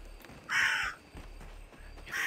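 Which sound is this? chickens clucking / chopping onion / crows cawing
crows cawing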